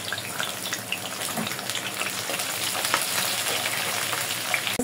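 Onion and garlic frying in hot oil for a bottle gourd and prawn curry, a steady close sizzle and crackle running throughout without pause, with no voices.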